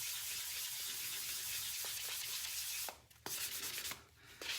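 Hand sanding of a painted jar for a light final smoothing pass, steady close scratchy rubbing strokes with brief pauses between them, no talking.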